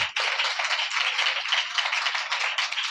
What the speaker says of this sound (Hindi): आइए रैल्फ मोहनी के लिए तालियां बजाएं